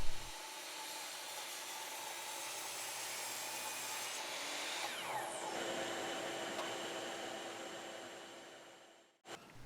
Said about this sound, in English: then clamp them together to make one final cut to length